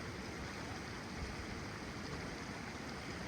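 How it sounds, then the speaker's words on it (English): Red wine glugs from a bottle into glasses outdoors in Pecos, New Mexico, a steady, soft, continuous splashing pour that runs for a few seconds with no talking over it. "Good pour going here."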